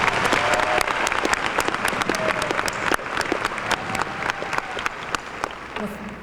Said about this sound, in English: let's give them one more round of applause if we could